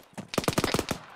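A quick burst of automatic gunfire in a military shooter game, about eight rapid shots packed into roughly half a second, loud and close.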